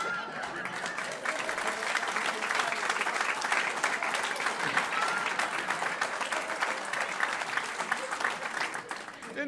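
An audience claps throughout a live comedy sketch show, a dense, sustained round of applause that stays fairly even in loudness for the whole stretch.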